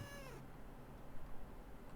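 A cat meows in a dark video game setting, a single drawn-out cry at the start that fades quickly into quiet background noise.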